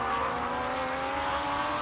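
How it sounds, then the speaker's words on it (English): The naturally aspirated V8 of a 2012 Ferrari 458 drones steadily at a hill climb event, a sustained engine tone at moderate distance, fairly even in loudness across the short stretch. "Oh, last naturally aspirated V8 Ferrari."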